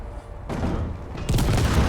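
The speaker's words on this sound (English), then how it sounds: "We missed the target! Oh no. Yes! Explosions!" Video game explosions erupt in booming, rumbling blasts, one heavy burst followed by a louder, crackling second detonation, loud and close with no talking.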